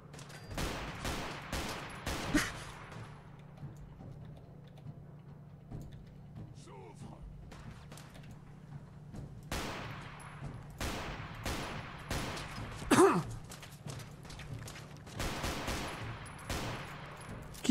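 Fallout 4 gunfire crackles in scattered, irregular volleys of sharp shots, some clustered in quick bursts and some alone, moderately close over a low steady hum, with game voices in between.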